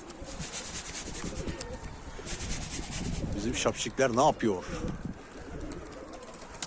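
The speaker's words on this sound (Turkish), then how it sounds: "Arkadaşlar dönüş kuşları şu an bizim kafamızın üstüne kadar geldi" Pigeons coo nearby, with rhythmic warbling calls standing out in the middle, while a flock of tumbler pigeons flies overhead outdoors; someone talks over the birds.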